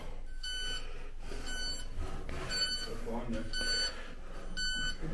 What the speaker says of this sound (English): That's what's beeping. The fire alarm panel.